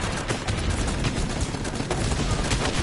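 Rapid gunfire and blasts from a grenade launcher in a PS4 shooter crackle in a dense, continuous barrage, loud and chaotic with no pauses.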